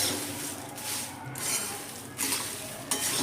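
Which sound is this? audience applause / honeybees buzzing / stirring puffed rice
stirring puffed rice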